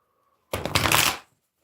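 A deck of playing cards is riffle-shuffled up close, one quick burst of crisp fluttering lasting under a second before silence.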